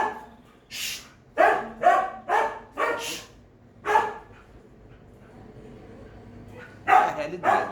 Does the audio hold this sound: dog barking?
yes